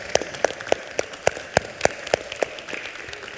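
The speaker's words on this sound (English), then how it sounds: "Round of applause." A small audience at a Caribbean youth day music event gives a thin round of applause for a DJ, about a dozen separate claps at a steady, loose rhythm over faint background noise.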